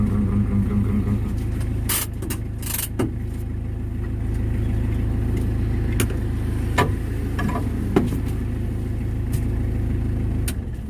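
Steady idling rumble of a new 2022 Mitsubishi L300 pickup engine running close by, with a few brief clicks and knocks over the constant low drone.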